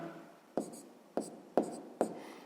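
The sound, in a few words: writing by hand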